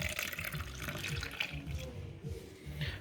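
Milk poured from a cup into a bowl of egg mixture for a sugar-free microwave flan, a steady liquid splash running continuously at close range with no talk.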